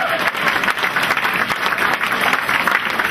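Guests at a Democratic Party dinner applaud, a dense, steady wash of clapping filling the room throughout.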